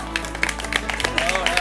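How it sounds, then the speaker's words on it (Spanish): Scattered clapping from a small group at a traditional Asturian Celtic wrestling match at a village romería, brief and uneven, with a voice talking over it. "un aplauso para el guerrero"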